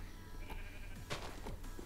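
Sheep bleat repeatedly in the Minecraft video game, short wavering blocky bleats in quick succession over a quiet background hum, with no talking.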